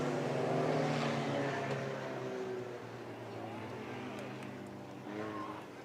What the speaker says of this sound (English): As they come down the straightaway, here comes Bolte securing that second place position